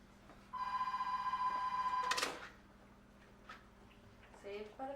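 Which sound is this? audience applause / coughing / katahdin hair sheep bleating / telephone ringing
telephone ringing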